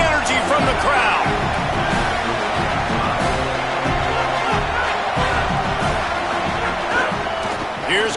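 A stadium crowd roars at a college football game on a third-and-goal defensive stand, a loud sustained wash of cheering and shouting under a commentator's talk throughout.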